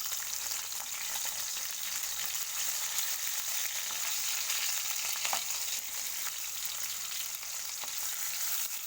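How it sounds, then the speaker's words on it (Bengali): Pieces of katla fish fry crisp in a pan with oil, giving a constant, close crackling sizzle with occasional small pops, and no voices over it. "মাছগুলোকে একদম কড়া করে ভেজে নেওয়া হলো"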